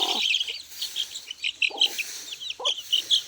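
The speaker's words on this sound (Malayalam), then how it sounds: "ഇത് ഒരു കോഴിക്കുഞ്ഞാണ്, ആ ഉള്ളതിൽ ഒരെണ്ണമാണ്" Native spotted chicken chicks peep in quick, high repeated chirps, close and steady, with a few soft rustling thumps among them.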